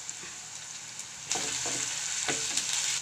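Ginger garlic paste frying in a pan with mint leaves, a gentle sizzle that jumps louder as the paste hits the oil, followed by a few stirring scrapes, close and without talk.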